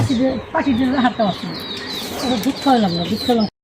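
A pigeon caught in a trap in a rural village coos and flutters close by, its calls interleaved with people talking over it.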